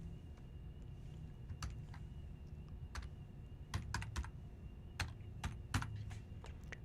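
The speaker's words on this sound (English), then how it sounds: "I'm going to type RIP version 2 here" Commands being typed on a computer keyboard while configuring network routing, with scattered soft key clicks then a quicker run of sharper taps, close but fairly quiet over a faint steady hum.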